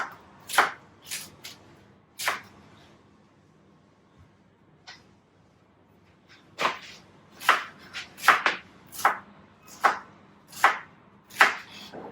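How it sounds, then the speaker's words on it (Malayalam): A knife chops pineapple into small pieces on a board for Indian pineapple pickle. A few soft cuts come first, then a steadier run of close, crisp chops with short pauses between them. "ചെറുതായിട്ട് അരിയാം."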